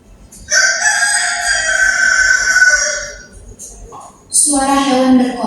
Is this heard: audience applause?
no